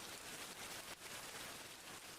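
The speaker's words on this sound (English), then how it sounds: "It's rain." Rain falling outside, a steady dense hiss of drops on surfaces, even and unbroken for a couple of seconds, fairly faint with no voices.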